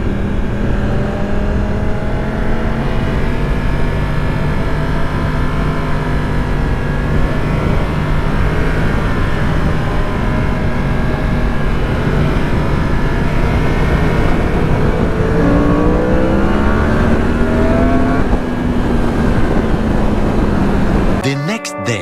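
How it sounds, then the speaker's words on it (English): Superbike racing motorcycles at Phillip Island roar past in a continuous loud wash of engine noise, rising and falling pitch as bikes pass, with faint talk underneath. "They're loud as hell, those bikes though."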